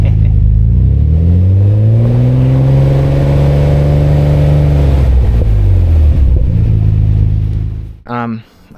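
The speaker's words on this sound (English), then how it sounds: "the exhaust sounded really cool and go plop plop plop" A Nissan R33 GTR exhaust rumbles loud and close as the engine revs up and holds, then settles, with a few sharp pops and a short voice at the end.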